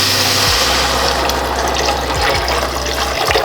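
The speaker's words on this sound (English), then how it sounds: "And now I'm going to add broth, and you can use any broth of your choice." Vegetable broth poured steadily into a soup pot, a continuous splashing liquid rush that stays loud and even throughout, with a low hum underneath.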